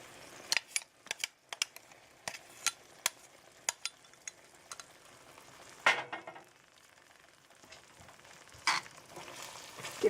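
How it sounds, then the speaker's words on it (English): Curry broth with curry powder gets stirred in a pan, a quiet bed of simmering overlaid by sharp spoon clicks and scrapes against the pan, with a heavier jostle midway. "Give this a stir."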